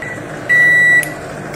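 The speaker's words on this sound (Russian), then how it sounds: "У меня старенькая микроволновка." A single long, steady electronic beep from an old microwave oven sounds for about half a second over a faint background hum.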